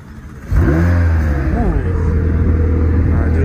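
A McLaren 720S Spider supercar engine fires up with a sudden loud catch and rising rev, then settles into a strong, steady idle close by, with a person talking over it.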